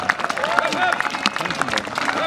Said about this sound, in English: Give them a big round of applause and a cheer